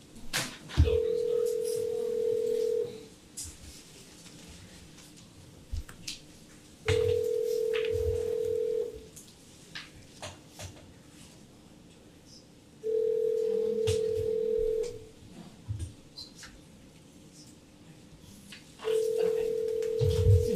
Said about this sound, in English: we're trying to get one commission member on the phone